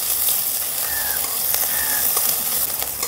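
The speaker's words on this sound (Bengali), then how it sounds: "আর 1 চামচ দিয়ে দিচ্ছি লঙ্কা কুচি। একটু ভাজা ভাজা করে নেব।" Cumin, chopped ginger and chilli fry in a pan with a constant, bright sizzling hiss and faint occasional ticks and pops, steady and close throughout.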